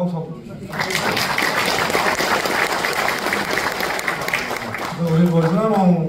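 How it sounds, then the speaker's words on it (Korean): An audience at a National Assembly event claps for Democratic Party secretary Kang Jun-hyeon, a sustained, busy burst of many hands that starts after a brief spoken lead-in and fades under a voice resuming near the end. "저 민주당 강준현 간사님께도 박수 한번 주십시오"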